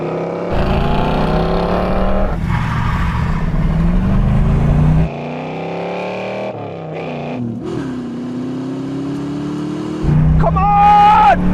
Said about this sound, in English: This is the standing quarter-mile drag race.